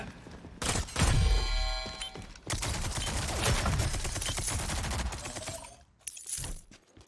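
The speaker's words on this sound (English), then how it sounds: "We're just fucking shooting everybody, dude." Gunfire in the shooter game Rogue Company rattles out in dense, loud automatic bursts, with a brief pause and a final short volley near the end; no voices are heard.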